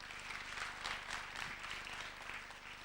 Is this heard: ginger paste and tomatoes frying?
no